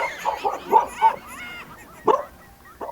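A dog gives a short run of yapping barks, then a pause, then two more sharp barks, close by and fairly loud, with faint voices at times.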